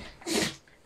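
A single short sneeze close by, a quick burst of breathy noise rising and fading in under a second in a quiet room.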